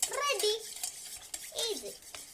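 A spoon stirs lemon water in a glass, making swirling scrapes and bright, ringing clinks in two close bursts.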